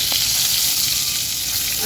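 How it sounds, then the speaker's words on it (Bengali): Eggplant slices frying in a pan on a home stove, a steady close hiss and crackle of hot oil that keeps going without a break. "তো করছি বেগুন ভাজা"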